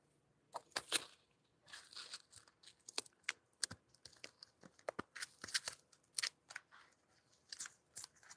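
Tarot cards are shuffled in quick, crisp bursts of riffling and snapping, irregular and close, fairly quiet with short pauses between handfuls.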